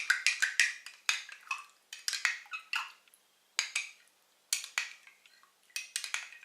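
A spoon clinks and scrapes against the side of a bowl while yeast is stirred into liquid, in quick bursts of close, bright taps with short pauses between them and no talking.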